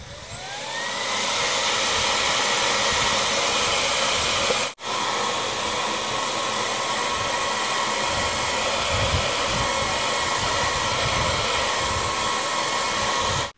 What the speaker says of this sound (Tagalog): Higupin natin ng vacuum gamit yung Xiaomi Vacuum Cleaner P30 natin.